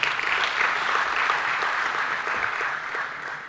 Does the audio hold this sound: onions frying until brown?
no